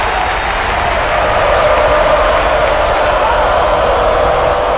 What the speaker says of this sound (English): Listen to this crowd go crazy, Bill.